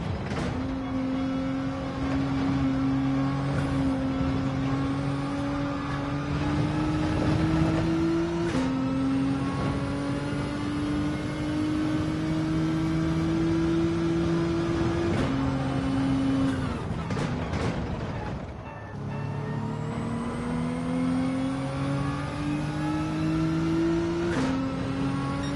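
Race car engine in Gran Turismo 7 during a manufacturer cup race, droning steadily with rising revs through the gears, cutting out briefly for shifts and a short lift, continuous and loud with no talk.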